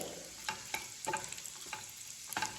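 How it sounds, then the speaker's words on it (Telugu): Grated fresh coconut roasting in melted ghee, stirred in a pan with soft sizzling and scattered scraping clicks from the spoon, close and fairly quiet with no voices. "ఇందులోకి పచ్చి కొబ్బరిని అయితే వేసుకున్నాను. మంచిగా రోస్ట్ చేసేసుకుందాం, కొంచెం బ్రౌన్ కలర్లోకి రావాలి."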